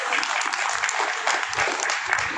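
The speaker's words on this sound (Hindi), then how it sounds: "मैगर राय के लिए तो ताली बजा दीजिए भाई।" A crowd at a community talk claps loudly and continuously, a dense wash of many hands lasting a couple of seconds with occasional sharper claps poking through.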